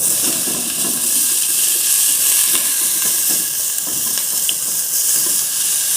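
Garlic and onion fry in a pan for chicken macaroni, giving a steady, close broadband sizzle that holds level throughout, with faint stirring scrapes mixed in and no voices.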